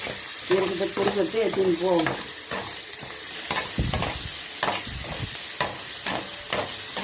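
Onion and garlic sautéing in a pan for tomato kuzhambu: close, steady sizzling with repeated scraping stir strokes throughout, and a brief voice-like murmur near the start.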